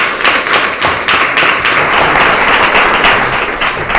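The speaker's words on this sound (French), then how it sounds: "accueillons comme il se doit nos 2 invités, tout de même, en les applaudissant très fort." Audience at a morning business talk applauding two guests, a dense, loud burst of continuous clapping in waves from many hands, with little talk over it.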